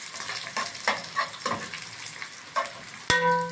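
Chili pepper and garlic hitting frying onions in a pan, crackling and sizzling with irregular stirring scrapes, then a sharp clink near the end followed by a fuller, louder sizzle.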